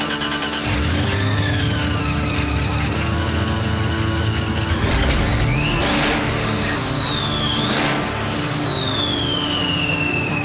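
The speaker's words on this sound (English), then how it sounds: "let's do a little burnout on the way out" A supercharged LSX-powered Chevrolet C10 truck revs hard for a burnout, its engine a loud, continuous roar with a rising supercharger whine that climbs, drops and climbs again close by.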